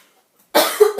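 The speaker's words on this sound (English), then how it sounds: "Oops, I'm gonna cough." One person gives a single short, sharp cough after a moment of silence, close to the microphone.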